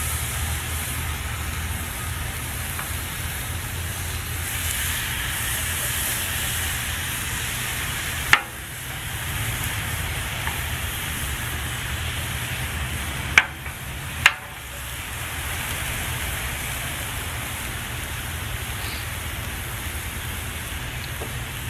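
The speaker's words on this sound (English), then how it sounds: "a little sizzle." Steady crackling sizzle of shark steaks on a hot grill, continuous and moderately loud, with a few sharp clicks partway through.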